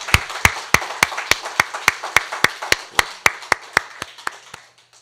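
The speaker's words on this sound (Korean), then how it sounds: "하나님께 다시 한 번 더 영광의 박수 올려드리겠습니다" Worshippers at a New Year's Eve church service clap in unison, giving about twenty sharp, evenly spaced claps close up. The rhythm slows slightly and the claps fade out at the end.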